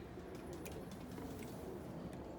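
Pigeons kept in an enclosure coo softly, producing a low, faint murmur of repeated calls against background noise.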